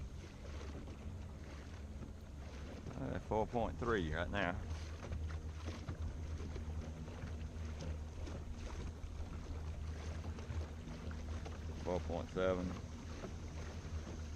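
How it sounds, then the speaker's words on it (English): A boat moving downriver on trolling motors with the current, steady low motor hum and wind noise throughout while someone speaks briefly. "Going down river with the trolling motors."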